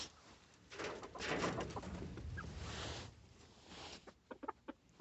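Backyard chickens clucking and murmuring as they are fed, a busy flock close by with a dense burst of overlapping calls early on, then a few sharper separate clucks near the end.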